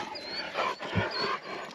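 Dogs suddenly bark close behind someone walking along a route, a couple of loud sharp bursts mixed with street noise.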